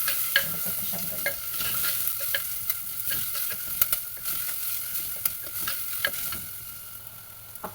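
Onions sauté in a pan for a Kerala fish curry, with soft scraping stirs and light sizzling repeating in an irregular rhythm, faint and close, with no voices.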